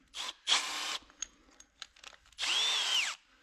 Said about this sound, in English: I got the 1/2 inch hole drilled through here